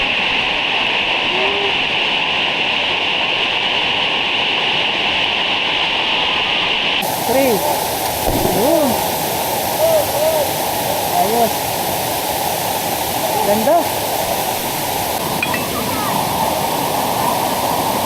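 Kaparkan Falls, swollen after rain, roars with a steady, dense rush of falling water; splashes and gurgles rise over the constant wash partway through.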